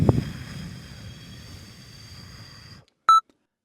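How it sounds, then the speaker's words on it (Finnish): A breathalyzer gives one short, clear electronic beep right after a long, steady airy rush of someone blowing into it. Brief silence follows. "Puhalla pitkään ja tasaisesti, kunnes laite piippaa."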